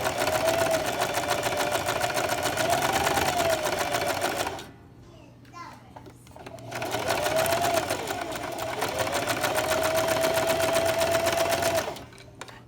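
A sewing machine stitches a baby sleeper sleeve through a folded layer beside a zigzag seam, running in two loud steady bursts with a short pause between them, and a voice talks faintly alongside.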